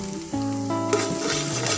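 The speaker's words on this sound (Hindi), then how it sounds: "ताकि ये साबुत गरम मसाला ऑयल के अंदर फ्राई हो जाए" Whole garam masala frying in hot oil with onions, a steady close sizzle with some stirring, loud and continuous over a short stretch with no talk.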